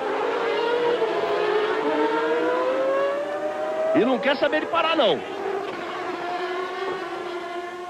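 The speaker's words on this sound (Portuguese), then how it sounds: "o carro faz o barulho realmente da alteração da rotação do motor" A Formula 1 car from the 1993 European Grand Prix revs on wet asphalt, its engine pitch rising and falling in sweeping whines with a sharp burst of revving near the middle, while a commentator talks over it.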